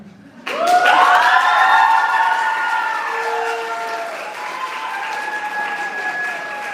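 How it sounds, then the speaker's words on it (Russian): An audience at a school graduates' beauty pageant bursts into loud, sustained applause for a contestant, starting abruptly and holding as a dense wash of clapping, with a few tonal whistles or horn-like notes ringing above it. "Аплодисменты Константиновой Ирине."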